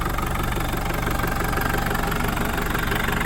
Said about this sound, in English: Engine runs very smooth, like a top.